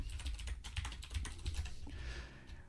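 Computer keyboard typing Python code with pymavlink, a soft run of quick keystrokes over a steady low background hum, with no talk.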